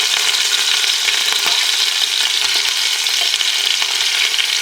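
Pieces of duck brown in a hot pan for a duck and dry white wine stew, giving a loud, dense and continuous sizzle close by, with no voices over it.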